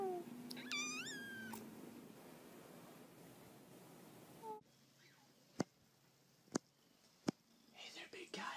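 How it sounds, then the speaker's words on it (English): A cat gives a quick rising meow and then a second short cry, followed by quiet room tone with a few sharp clicks and faint rustling. "say meow."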